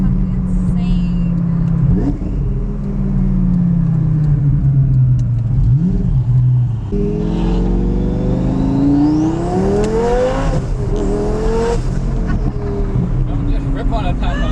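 A twin-turbo Lamborghini Gallardo is driven hard, its engine droning and then revving up in rising sweeps with a turbo whine, loud and close from inside the car. Excited voices talk over it throughout.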